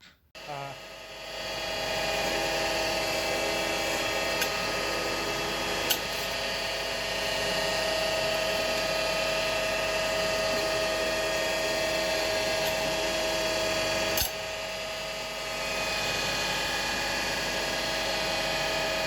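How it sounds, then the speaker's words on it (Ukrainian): A homemade cold forging machine for making garden benches runs with a steady, loud motor hum, and its limit switch stops the shaft with brief clicks along the way; no talk. "Отак працює концевий вимикач, який зупиняє вал нашого верстата у потрібному місці."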